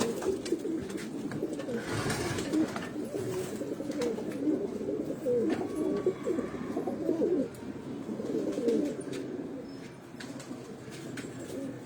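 Breeder pigeons coo steadily in a loft, soft overlapping throaty calls with occasional chirps and wing flutters, a continuous close chorus with no talking.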